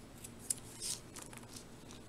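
Scissors snip paper while trimming a short piece for a scrapbook page, a few quick close cuts with a brief swish, quiet and with no talking.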